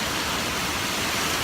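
Steady, loud rain falls in a dense, even hiss that fills the whole moment without letting up, and no voices are heard over it.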